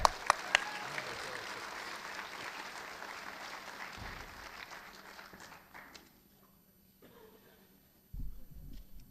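An audience applauds food bank helpers at a cooking competition event. The clapping is dense and steady for about six seconds, then fades out, and a few low bumps and knocks follow near the end.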